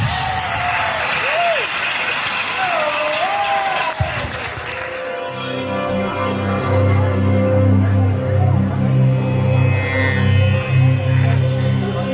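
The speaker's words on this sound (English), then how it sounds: "let's give it a big round of applause for the moms with Mehtas" Audience applause at a wedding reception for the mothers of the couple, starting faintly under a speaking voice, then swelling into steady clapping while music begins to play.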